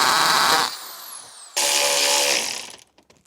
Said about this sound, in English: let's get the drill out.